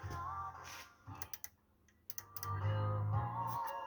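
An Odyssey U-010 stereo amplifier being switched over, a few sharp mechanical clicks amid a low electrical hum and faint clatter, close and quiet with no voice over it.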